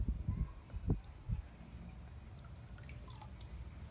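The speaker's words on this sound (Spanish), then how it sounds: "para que el agua que está escurriendo se vaya de una vez por el desagüe" Water drains and drips from wet handmade paper pulp into a drain, with a few distinct drops early on, then a softer steady trickle and splash.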